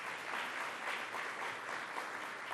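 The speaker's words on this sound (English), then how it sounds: "Let's give him another round of applause" An audience at a public event applauds steadily, a soft, even wash of many hands clapping heard from a distance, with no voices over it.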